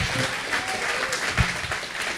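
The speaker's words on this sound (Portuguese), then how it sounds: "Pode aplaudir o Senhor." A church congregation applauds during a sermon by Pastor Ademir Pereira, steady dense clapping with a few louder claps standing out across the whole stretch.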